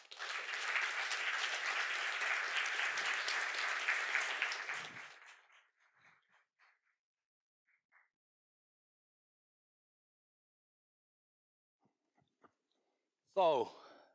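Warm audience applause for speakers taking the stage at a book launch event, a dense, steady clapping that lasts about five seconds before fading out into near silence, followed by a brief burst of noise near the end.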